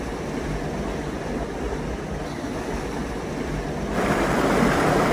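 Steady rushing of water draining from a salmon hatchery pond, broadband and continuous, growing somewhat louder partway through.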